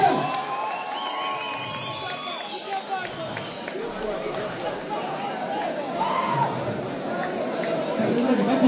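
A crowd at an MMA fight in Ethiopia cheers and claps for the new champion, a broad, steady wash of noise with voices and shouts mixed in, and people talking over it throughout.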